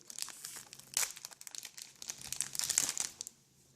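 Pokémon XY booster packs torn open and handled, their foil wrappers crinkling and crackling in close, busy bursts, with sharper rips near the middle and end before the sound stops.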